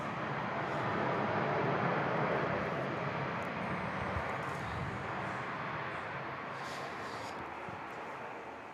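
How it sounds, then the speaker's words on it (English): A Boeing 787 Dreamliner airliner at Perth airport gives off a broad, steady engine roar from a distance that slowly fades, with no one speaking. "Dreamliner number 2, and that's even a better contrast between this 787 and the little Conquest down there"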